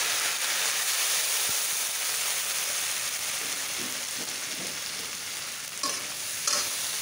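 Mustard paste frying with onion, ginger and garlic in a pan gives a loud, continuous hiss and sizzle, with a few soft stirring scrapes near the end.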